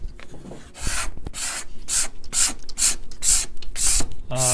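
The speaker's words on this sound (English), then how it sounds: "Scraping a finish or scraping wood is easier if it isn't figured." A steel card scraper drawn across a wooden guitar-making workpiece in a rapid series of rasping strokes, about eight close, crisp scrapes in a steady rhythm, with no talk.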